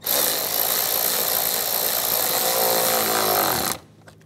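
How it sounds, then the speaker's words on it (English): A power tool tightens worm-drive hose clamps on a 2010-2016 Cadillac SRX during spark plug replacement, making a loud, steady whirring drone for almost four seconds before cutting off abruptly. "And tighten down the worm clamps."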